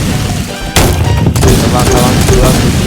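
Loud, dense bursts of rapid gunfire from the Roblox video game, a continuous barrage of booming shots that grows heavier partway through and carries on to the end, with a voice talking underneath.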